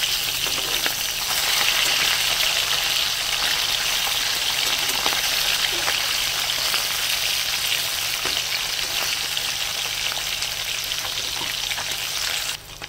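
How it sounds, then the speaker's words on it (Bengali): Fish pieces deep-frying in hot oil until deep red give a steady, loud, continuous sizzle with a fine crackle that holds evenly throughout, with no talking. "এক করে মাছগুলো সব ভেজে নেবো কড়া লাল করে।"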